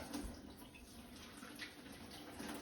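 Tap water runs steadily and quietly while vegetables are rinsed of mud in a kitchen sink, a soft continuous wash with no voices.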